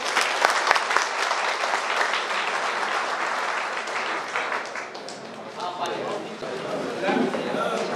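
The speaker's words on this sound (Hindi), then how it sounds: "वो शास्त्री बाबू को मंच जोरदार ताली हो जाए।" An audience at a community association event in Bhagalpur claps loudly and continuously, a dense roar of applause that dips slightly midway and swells again toward the end.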